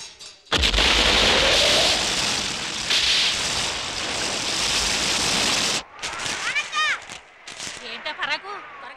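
A heavy rain downpour roars loudly and evenly for about five seconds, then stops abruptly, and voices speak in the quieter stretch that follows.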